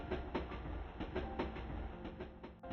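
A train runs on rails through a forest at night, its wheels beating a steady, regular clickety-clack over a continuous low rumble, close and even throughout.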